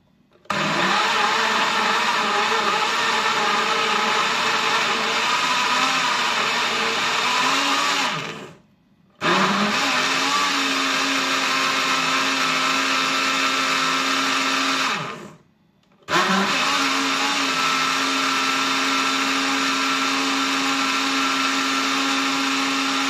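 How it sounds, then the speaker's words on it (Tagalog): A blender whirs loudly up close, blending apple, celery, cucumber and spinach into a vegetable shake, running in three long bursts separated by two short stops. "I-blender po muna natin itong kay Kuya Ador."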